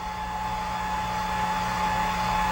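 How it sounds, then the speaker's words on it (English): A low-wattage hair dryer blows with a steady, even whir and hum, constant in pitch and loudness throughout, close up and with no other sounds. "This is a low watt hair dryer"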